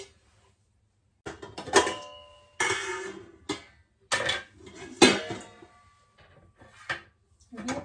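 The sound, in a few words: covering dough with a pressure cooker lid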